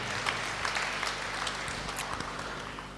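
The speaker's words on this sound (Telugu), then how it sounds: "కావలసిన వాళ్ళందరూ కూడా గట్టిగా చప్పట్లు కొడదామా?" Church congregation clapping during a Telugu-language service, a continuous, fairly soft patter of many hands heard from a distance with a faint low hum underneath.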